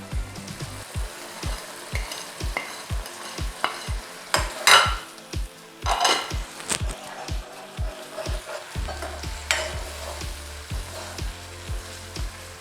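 Paneer with salt and turmeric sizzles in a pan while a utensil stirs and scrapes in a steady rhythm of repeated strokes, close and fairly loud, with no voices.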